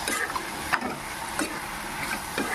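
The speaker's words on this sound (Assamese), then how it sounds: "বিলাহীখিনি দি অলপমান ভাজিম।" Tomatoes fry in a hot pan with a constant sizzle, broken by a few scraping stirs of a spatula every half second or so.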